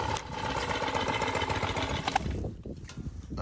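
A Mantis XP 4-cycle tiller engine fires and runs with a busy mid-pitched putter, steady and fairly close, then drops off abruptly near the end.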